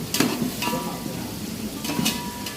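Chana dal roasts in a pan with onions, stirred now and then, a steady soft sizzle broken by a few brisk scraping strokes, close and fairly loud with no talk.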